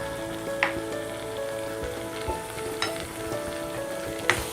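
Pepper chicken fries in a pan over a medium flame with a constant close sizzle, while a spoon stirs it and knocks against the pan now and then in sharp clicks.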